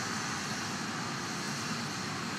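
A ULA rocket climbing after launch from Cape Canaveral, its engine roar a dense, even broadband rush heard from afar, steady throughout with no voices.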